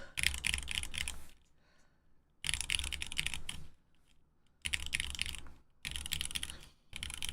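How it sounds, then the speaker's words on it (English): Bursts of rapid typing on a Vanguard65 mechanical keyboard with tuned stabilizers, clattering clicks in four separate runs with short quiet pauses between them, close and clear. "I liked how this keyboard sound."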